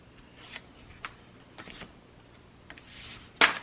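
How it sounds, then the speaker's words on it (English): Tape backing is peeled off paper for a layered flip-down scrapbook page, heard as faint crinkly rustles and small tearing scrapes, ending in a louder rip close by. "So we're going to remove the backing here, the tape backing."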